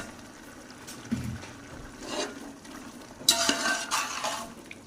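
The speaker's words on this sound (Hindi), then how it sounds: "अच्छे से इनको भी भून लेते हैं" Two kilos of peas, potatoes and carrots stir-fried with coriander powder and spices for pilaf: a low sizzle under repeated scraping and stirring, with spoon knocks and clatter against the pot, close by, without speech.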